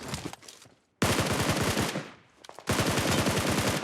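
Automatic gunfire in PUBG Mobile rips out in loud, rapid bursts, separated by brief pauses and a softer volley in between, with no talk over the shooting.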